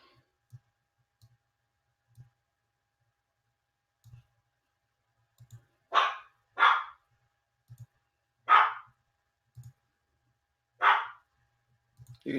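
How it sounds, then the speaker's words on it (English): A dog barks indoors, five sharp barks spaced irregularly over several seconds, somewhat distant and moderate in level, with faint low clicks and taps scattered through the quiet between them. "You can hear my dog."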